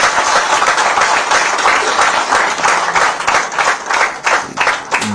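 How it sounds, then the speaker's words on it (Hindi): An audience at a BJP party office event claps in a sustained burst of applause, loud and dense, with the rhythm loosening toward the end. "ताली वाली बजाओ इस बात पर।"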